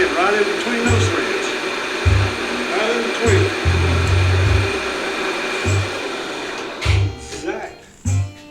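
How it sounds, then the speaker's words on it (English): A lathe runs with a steady whirring drone while cutting a double-lead, left-handed internal Acme thread, with short repeated low mechanical thumps at regular intervals and brief bursts near the end, and someone talking. "we'll cut a thread right in between those threads"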